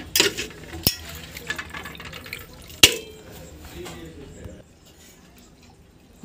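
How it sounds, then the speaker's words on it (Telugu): Pieces of mutton are rinsed in water in a kitchen, with close splashing, sloshing and dripping in uneven bursts, a couple of sharp knocks, and then near-quiet at the end. "ఈ మటన్ని ఒక 4-5 సార్లు వాటర్ పోసి శుభ్రంగా కడిగి"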